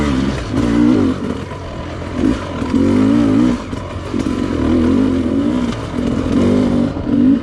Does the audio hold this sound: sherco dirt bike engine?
yes